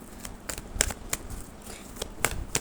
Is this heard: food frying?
no